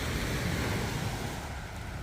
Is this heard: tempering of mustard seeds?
no